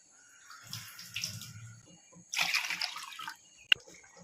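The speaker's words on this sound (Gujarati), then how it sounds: "2 વાટકી પાણી લઈ લેવાનું" Two bowls of water are poured for cooking moraiyo, heard as two close bursts of splashing and gurgling separated by a short pause and ending with a sharp knock. A voice speaks faintly underneath.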